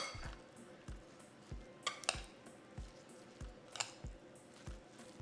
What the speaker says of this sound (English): Now we're going to carefully mix it all together.